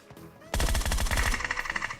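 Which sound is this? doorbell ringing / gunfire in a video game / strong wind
gunfire in a video game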